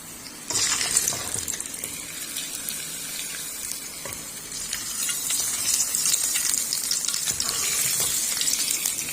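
Kasuri methi dropped into hot oil in a spoon for tempering karhi, giving a steady close sizzle and crackle of frying that runs on without pause, with no talk.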